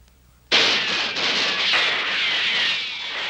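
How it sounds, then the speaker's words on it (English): A cartoon gunshot bursts in abruptly and loudly, then trails off into a long, bright, hissing decay that lasts several seconds. "Confounded Charlie Chin, put that gun away."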